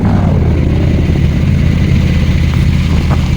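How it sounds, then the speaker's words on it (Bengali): A video game motorbike runs as it pulls up at a beach, a loud, close engine drone with a steady low rumble throughout and no voices. "বিচের সামনে এসে এইখানটাতে আমার বাইকটা থামাই"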